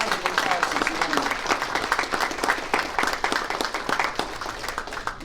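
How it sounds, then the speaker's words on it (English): An audience at a Christian ministry event applauding, with brisk, dense clapping throughout and a speaking voice mixed in with it. "Let's give Ben a worldwide round of applause this morning."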